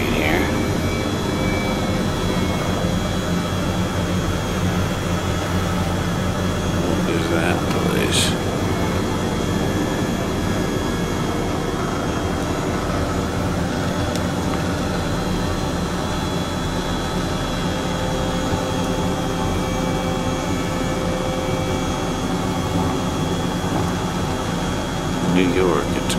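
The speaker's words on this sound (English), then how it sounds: "We're having a Las Vegas helicopter tour." An Airbus H135 helicopter flying over Las Vegas, heard from inside the cabin as a loud, constant engine and rotor drone with steady tonal whine, holding level for the full length, with no talk.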